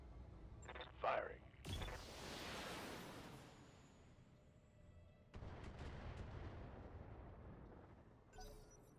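An AC-5 autocannon fired by a mech in BattleTech, a few heavy booming shots with long rumbling tails, the loudest burst followed by a sustained roar, then another rumble later.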